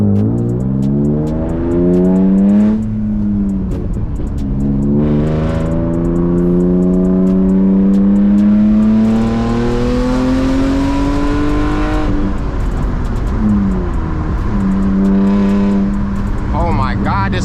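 Manual BMW E36 engine revving hard while rev-match downshifting on hilly roads, with loud rising and falling wails that climb through the gears, dip sharply at each shift, and blip back up, close and continuous inside the car.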